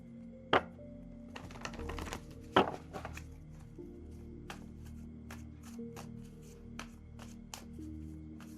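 Oracle cards are shuffled and handled at close range, with a few sharp slaps and a run of quick papery flicks and taps against a quiet, low room hum.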